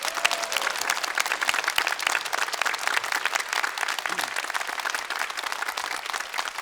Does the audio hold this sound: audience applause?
yes